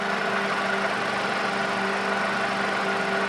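A Mercedes SLK230 engine idles steadily up close, with a constant rough rattling hum and a tonal whine and no pauses or talking.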